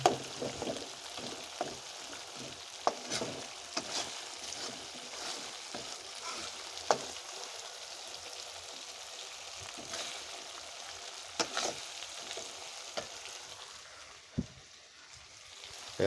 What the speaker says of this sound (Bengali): শুধু তেলে ভাজা।